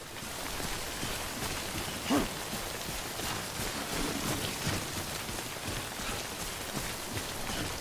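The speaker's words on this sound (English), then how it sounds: "I'm trying to get out of the rain," Rain in the video game Death Stranding, a constant hissing downpour with steady patter that holds evenly for several seconds, with one brief thump near the start and no talking over it.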